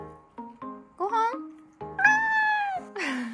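A cat meows repeatedly at mealtime, a series of short calls followed by longer, drawn-out meows, close and loud, with a breathy sound at the end.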